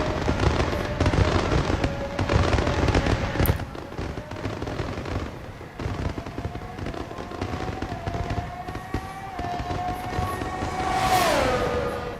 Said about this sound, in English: Fireworks already going there for finishing the race.